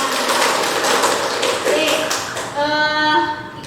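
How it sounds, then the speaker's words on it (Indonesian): A classroom of children clapping their hands together in a dense, steady patter for a couple of seconds, then a voice takes over near the end. "Luar biasa semangat paginya kalian, tepuk tangan"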